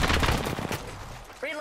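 Bursts of automatic gunfire in the battle game Apex Legends, a loud rapid volley that dies away after under a second, followed by a brief electronic game tone.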